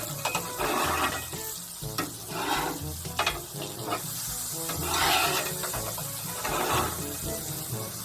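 A smash burger sizzles loudly on a Blackstone griddle in butter as it is flipped and scraped, with a steady fry hiss broken by several scraping pushes of the spatula, close up, with no talking.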